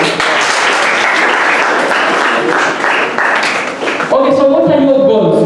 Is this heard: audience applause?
yes